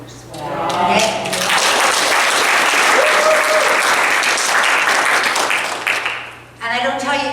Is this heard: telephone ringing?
no